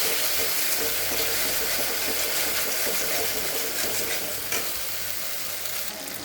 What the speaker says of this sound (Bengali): এটাকে আমি ভালো করে ভেজে নেব একটু